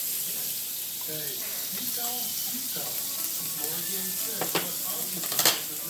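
Onions sautéing in butter in a pan give a steady broadband sizzle with occasional stirring scrapes, while faint speech-like tones pass in the background and a brief louder clatter comes near the end.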